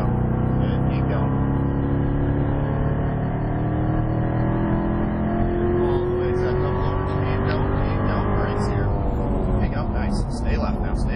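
A Corvette C7 on a Las Vegas race track pulls hard under throttle, its engine note rising steadily and loudly throughout, while an instructor talks over the engine.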